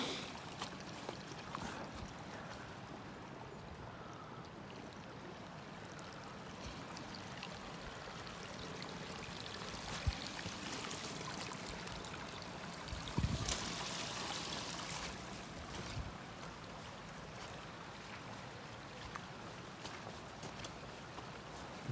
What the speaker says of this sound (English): See the actively flowing little streams in there at the minute.